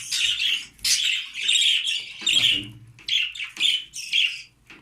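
Budgerigars squawk and chirp in repeated bright bursts, fairly close and loud, with short pauses between calls and no talking.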